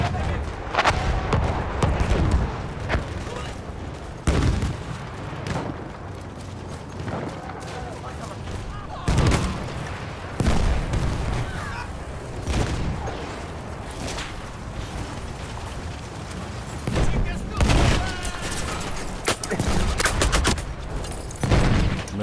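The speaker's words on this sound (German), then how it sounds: "Artillerie ist raus." Artillery shells boom and explode repeatedly in Battlefield 1 on the St. Quentin Scar map, loud blasts recurring every few seconds over dense, continuous battlefield gunfire and rumble, with voices heard now and then.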